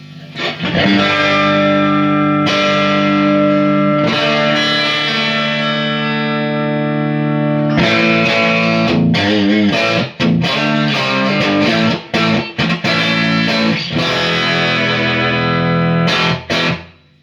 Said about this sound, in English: Instant Strat into AC30 tone